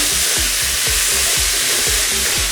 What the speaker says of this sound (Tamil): இந்த பெரிய வெங்காயத்தை நல்லா அந்த ஒரு கோல்டன் ப்ரௌன் ஆகிற அளவுக்கு நல்லா வதக்கணும்